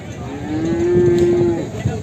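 A single loud, steady moo from a nearby buffalo calf, held for about a second over a murmur of background noise at the Erragadda buffalo market.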